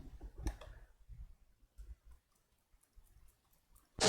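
Soft computer mouse clicks on an online audio player button, a few faint isolated clicks in a quiet room, with a loud burst of sound starting at the end.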